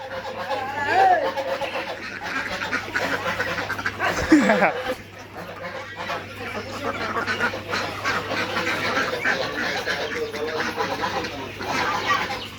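Campbell ducks at a small hobby farm quack intermittently at a moderate distance, mixed with ongoing people talking throughout.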